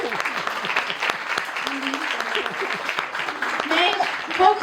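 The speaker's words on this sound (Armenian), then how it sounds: "կարող եք ծափահարել։" An audience applauds after a children's stage performance, with steady clapping and a host's voice talking over it throughout.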